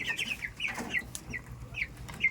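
Several chickens cluck and squawk in short, scattered bursts nearby, with faint rustling in the background.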